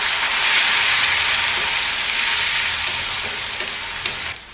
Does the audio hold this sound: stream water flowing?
no